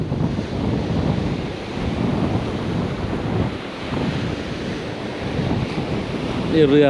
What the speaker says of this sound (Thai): เสียงคลื่นซัดสาดนะครับ